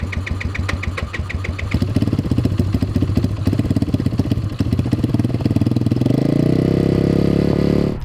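A 190cc shifter kart engine cranks with rapid rhythmic chugging pulses, then catches and settles into a loud, rough running drone, close and continuous.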